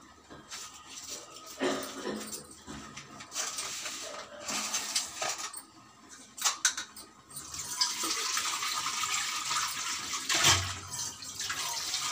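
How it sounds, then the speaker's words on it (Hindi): Water for tea heating on a home stove, a soft bubbling and hissing rising and falling over about twelve seconds, with a dog heard faintly in the background. "ये मेरा चाय के पानी खौल रहा है"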